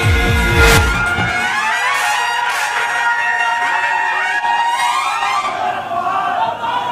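Crowd at a Sharad Pawar political rally in Konkan cheering and shouting, with a dense, loud roar of voices and whistles sustained throughout, after a brief burst of amplified speech at the start.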